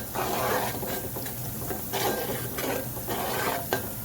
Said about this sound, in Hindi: साथ साथ चम्मच चला रहे हैं।